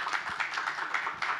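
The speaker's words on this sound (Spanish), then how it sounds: "lo podemos aplaudir" Audience applauding a speaker invited onto the stage at a film event, a steady patter of many hands clapping at close range with no voices over it.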